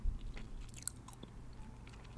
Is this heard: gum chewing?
yes